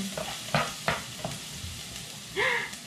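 Garlic frying and being stirred in a hot pan gives a steady sizzle, with a few sharp clinks and scrapes of a utensil against the pan and a brief louder hiss near the end.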